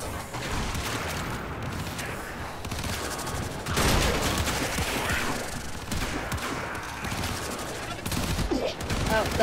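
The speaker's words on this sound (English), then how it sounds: "Oh, stop shooting at me." Continuous gunfire from the Warframe video game rattles through the whole stretch, dense overlapping shots and bursts forming a loud, busy barrage with heavier peaks, while a player's voice breaks in occasionally underneath.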